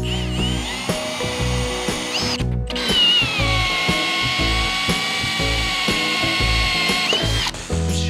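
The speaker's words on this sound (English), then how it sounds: "I'm pretty much just gonna drill this out" A power drill whirs steadily into PVC conduit, its motor whine holding for several seconds with brief pauses and a gritty cutting rasp underneath.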